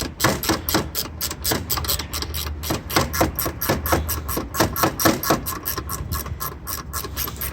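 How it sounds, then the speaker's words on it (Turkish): A screw being worked loose on a Mondial Fury 110i motorcycle lying on its side, heard as a fast run of close, sharp metallic clicks and ratcheting taps that repeat evenly with no talking. "Şuradakini söküyorum şimdi"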